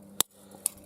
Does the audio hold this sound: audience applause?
no